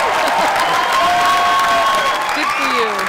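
Audience applause fills a room at a 2010 Tour Championship women's pool semifinal, a steady dense clatter of clapping with crowd noise that holds for about three seconds, with a voice talking faintly over it.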